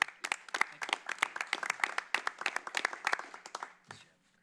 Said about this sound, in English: a hand of applause for Chad